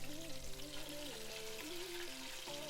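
Meat sears in a Cookeo pot for osso bucco, a steady hiss and crackle of frying beneath louder background music that carries throughout.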